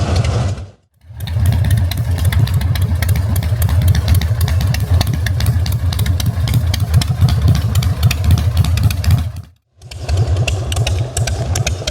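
A chopper motorcycle in Depok, Indonesia, mud-splattered after a rainy ride, idles with a loud, close, steady low rumble that drops out abruptly twice before resuming.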